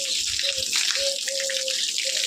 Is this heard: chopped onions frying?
no